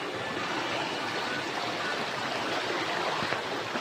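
Waterfall beside a mountain trail in Kayapa, a broad, steady rushing roar of falling water, loud and continuous throughout without pause.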